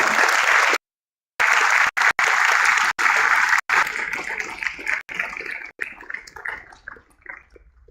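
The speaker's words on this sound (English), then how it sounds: "may I please request you all to join in extending a hearty round of applause" A large audience at a panel session of a business conference claps loudly and steadily, with several sharp cut-outs, then the applause thins into scattered fading claps.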